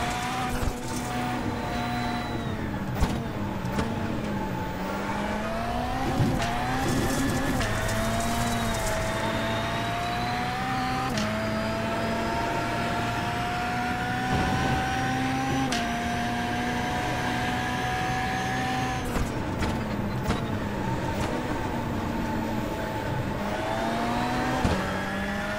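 A race car in a rallycross video game at Daytona drones steadily through its revs, with engine pitch climbing and dipping through gear changes and brief bursts of tire noise, loud and continuous with no talk.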